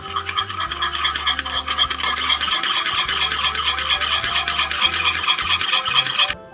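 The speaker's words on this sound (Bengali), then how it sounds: "এবার আমি দইটা ফেটিয়ে দেবো" Yogurt being whisked briskly in a bowl for chicken kofta, a close, continuous rapid scraping and rattling with steady rhythm and no talk.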